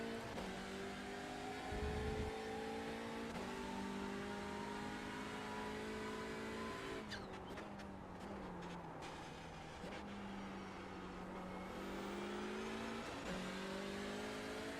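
An LMP prototype race car engine in iRacing at Daytona, a steady droning whine that rises and falls with throttle and gear changes, continuous and fairly faint, heard alone.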